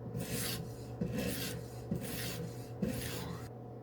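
A lower-quality knife is drawn across a sharpening stone in four slow, even rasping strokes, each a soft scrape followed by a brief pause, close and fairly quiet with a faint steady hum beneath.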